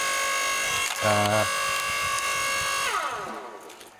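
A Titan TTB762LSP 1.5 kW 4-ton electric log splitter works a rough piece of poplar, its motor holding a steady buzzing whine that strains and drops in pitch under load before winding down, loud and close.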